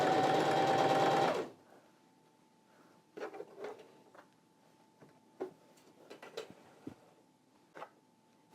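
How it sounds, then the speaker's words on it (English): A domestic sewing machine runs fast for about a second and a half while stitching a test line of thread, then stops, followed by soft ticking and clicking handling noises in a quiet room. "Just sew a line."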